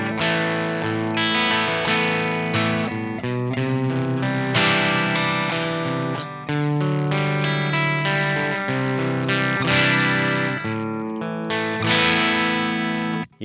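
An electric guitar runs through an MXR Mini Fuzz Face pedal with the guitar volume knob at half, producing a lightly broken-up, fuzzy tone as chords and notes ring continuously and loudly without talk.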